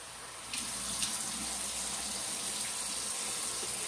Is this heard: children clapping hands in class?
no